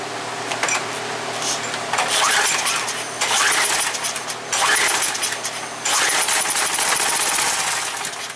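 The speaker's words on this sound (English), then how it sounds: "There she fired." A Craftsman pressure washer's small gasoline engine, primed with brake cleaner and choked at about half idle, fires and runs loud and rough, its uneven sputtering surging and dipping in bursts nearby without any voices.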